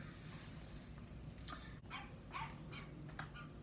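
A small dog yips and whimpers in a few short high bursts, faint and somewhat distant, over a steady background hiss with no speech.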